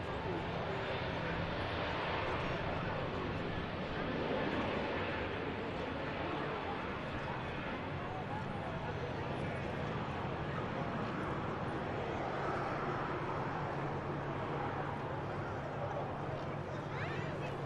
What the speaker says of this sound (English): IAE's powering that aircraft into the climb